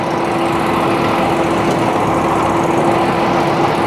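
A HotJet 2 37 HP fuel-injected trailer-mounted jetter engine running loud and steady, a continuous droning hum with a fixed tone and no pauses.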